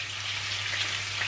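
Onions and shallots frying in a pan over high heat: a continuous bright sizzle, steady and close, with a low background hum and no talking.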